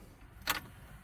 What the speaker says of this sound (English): That sound is the ISC motor going into the correct position